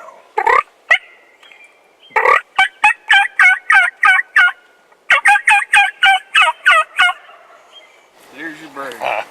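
Wild turkey gobbling during a South Dakota turkey hunt: loud, close repeated gobble bursts in two long rapid rattling series after a couple of single calls, with a quieter low rumble at the end.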